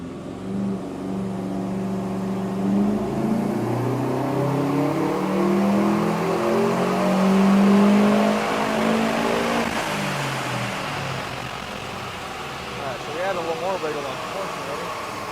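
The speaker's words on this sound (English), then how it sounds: "That's the dyno accelerating" A 2010 Subaru STI running on a dyno: the engine rises smoothly through its revs in a long, loud, sweeping drone, then eases off near the end, with someone talking over it.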